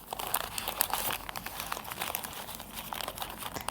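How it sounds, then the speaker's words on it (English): Oil paper packaging crinkles and rustles as it is unwrapped from an injector valve assembly, a close, continuous crumpling with small sharp crackles throughout. "We package with oil paper."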